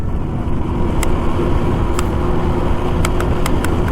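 A Suzuki Max100 motorcycle engine running while being ridden on an open road, a steady loud droning rumble with wind noise throughout and a few faint clicks.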